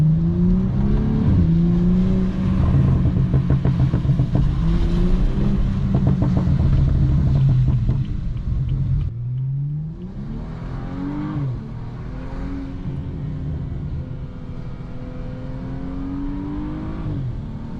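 A 2014 BMW 335i engine roars loud and close while driving, rising in pitch as it accelerates, dipping briefly at a gear change, then climbing again in steady revving sweeps.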